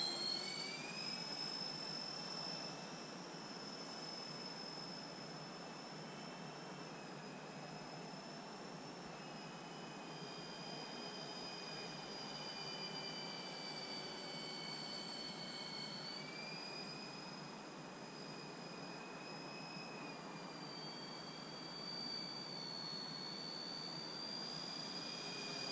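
A Freewing B-17 model airplane in flight gives off a steady, continuous motor whine whose pitch drifts and shifts slightly throughout. It is heard alone at moderate distance, with no talking.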